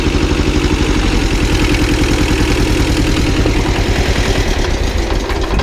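A heavy old Kubota tractor engine idles loudly and steadily, its low knocking rumble continuous throughout with no other sounds.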